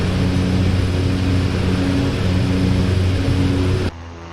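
Steady propeller aircraft drone from a short-field landing in the DCS World flight simulator, loud and close with a constant engine hum that cuts off abruptly near the end.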